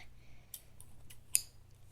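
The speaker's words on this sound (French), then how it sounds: "Des ciseaux gauchers parce que je suis gauchère." Left-handed Office brand scissors are handled in a quiet room, giving a few faint, crisp metallic snips and clicks spaced out over a couple of seconds.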